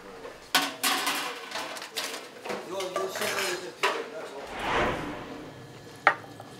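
Cutlery and dishes clink and clatter in a busy staff cafeteria at an Incheon port office during lunchtime, with sharp irregular knocks of metal on plates and trays close by and a faint murmur of background voices.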